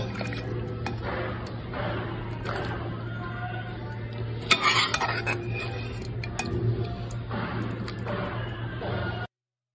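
Cooked mutton curry being scooped and transferred into a pot, with metal utensils clinking and scraping against cookware in a steady series of close kitchen knocks over a constant background hum.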